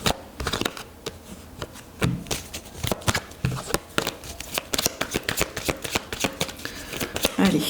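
Tarot cards being shuffled and drawn, a dense run of crisp riffling flicks and slaps close up, with brief soft speech in the background.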